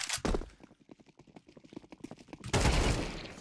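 An AK rifle in the Counter-Strike 2 video game fires a rapid burst of shots, then a quick run of lighter taps, then another dense, louder volley, all close and sharp.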